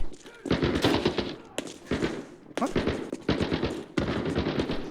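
Bursts of rapid automatic gunfire in the game Arena Breakout: Infinite, including a G3 rifle, several loud volleys separated by brief pauses, close and dominant.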